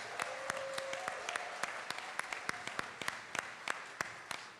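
Applause from a debate audience for a California congressional district debate, a dense steady wash of many hands with crisp individual claps standing out, moderately distant.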